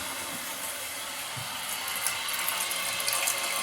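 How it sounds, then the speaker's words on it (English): A toilet tank fills with water through a float-style fill valve, a steady hissing rush of flowing water that grows slightly louder as it goes, close and alone. "See your water filling."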